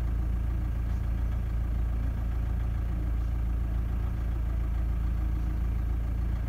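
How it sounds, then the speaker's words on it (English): Diesel engine with a rough idle, a steady low rumbling drone with slight unevenness, close and continuous with no talking. "It happens to be having a little bit of a rough idle also."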